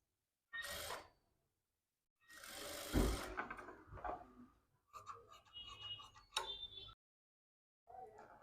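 A sewing machine stitches a blouse sleeve in several short runs of rapid mechanical ticking and whirring, separated by brief pauses, close and fairly quiet with no speech.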